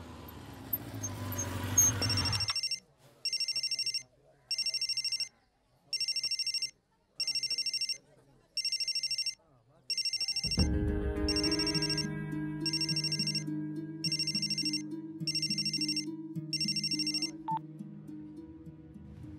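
Mobile phone ringtone in a Kannada film dubbed into Hindi, a series of repeated bright electronic bursts with short regular gaps that carry on over a low musical backing once it begins.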